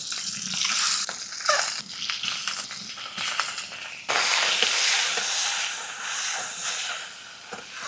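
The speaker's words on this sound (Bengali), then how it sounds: "কড়াইতে একটুখানি সর্ষের তেল দিচ্ছি, ডিমগুলো ভাজবো।" Eggs frying in hot mustard oil in a wok give off a steady, loud hiss and sizzle with crackly bursts, swelling sharply midway and continuing close up without any talk.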